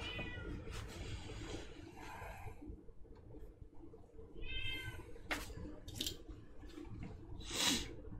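A cat meows a few times, short nasal cries scattered over low rumbling background noise, with some snuffling sounds between.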